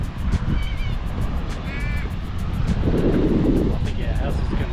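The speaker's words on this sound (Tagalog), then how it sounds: "Medyo mahangin lang dito." Wind gusts buffet the microphone beside open water, a steady rumbling roar with crow caws and chirps in the background while people talk.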